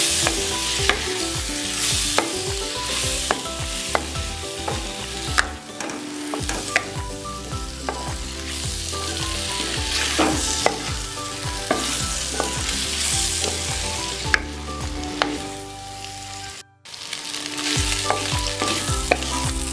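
Homemade wheat flour pasta stirred in a hot pan, with loud sizzling frying under repeated clattering scrapes and taps of a utensil against the pan, briefly cutting out near the end; no voices.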